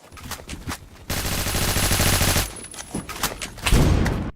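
Honey Badger rifle firing in Phantom Forces: scattered shots give way to a sustained loud automatic burst, then more irregular shots and a heavier blast near the end.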